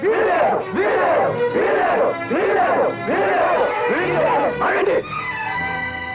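Angry crowd of villagers in a Telugu film scene shouting in protest together, loud repeated surges of massed yelling voices, each swell rising and falling roughly every second before dropping to a lower murmur near the end.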